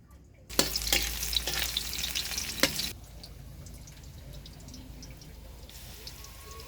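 Cooking oil starts sizzling in a pan as a snail dish begins, a loud burst of bright frying crackle that settles after a few seconds into a quieter, steady sizzle close by.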